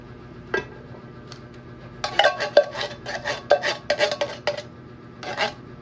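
Mango tapioca dessert mixture with condensed cream being stirred in a bowl: repeated close scraping, clinking and rubbing of a utensil against the container in quick irregular strokes, with a quiet tap before the stirring starts.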